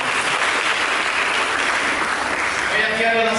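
Congregation applauding inside a GBI Harmoni church service, steady dense clapping throughout, close and loud, with a faint voice and music rising near the end.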